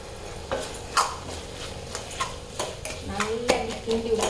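A spoon stirs a spiced chili-powder dish in a pan, making soft scrapes and light clinks at irregular intervals under someone talking.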